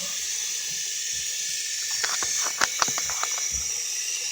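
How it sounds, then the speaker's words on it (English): Water running steadily from a tap to rinse a fidget spinner, a constant hissing stream with a few light clicks and splashes partway through, moderately loud and close without speech. "Turn on your water, rinse it off, turn off the water."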